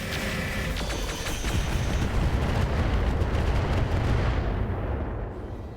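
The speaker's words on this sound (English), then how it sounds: "Enemy airstrike." Enemy airstrike explosions in the RogueTech game, a dense rumbling barrage of blasts and crackling impacts that rolls on for several seconds and then fades out.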